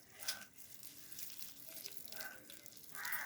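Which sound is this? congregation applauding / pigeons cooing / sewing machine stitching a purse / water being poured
water being poured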